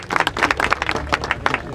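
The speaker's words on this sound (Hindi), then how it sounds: "तो मकवाना जी के लिए जरा ताली बजा दीजिए।" An audience claps for a politician at a festival gathering, a steady, fairly close patter of many hands without a break.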